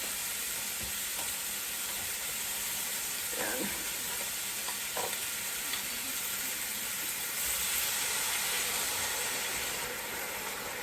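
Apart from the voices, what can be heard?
beef broth added to pot with chuck roast, sizzling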